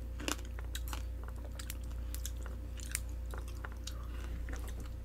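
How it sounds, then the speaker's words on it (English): Crunchy, juicy pomegranate seeds are chewed close up in a quiet room, with a quick series of crisp bites and wet crunches over a low steady hum and no talking. "It's safe to chew and eat the seeds too."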